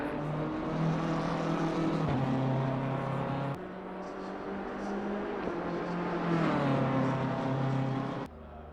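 BMW race car, number 456, lapping the Snetterton circuit during a qualifying session, its engine droning loud and steady with shifting harmonic pitch as it changes gears, holding close for most of the stretch before an abrupt drop near the end.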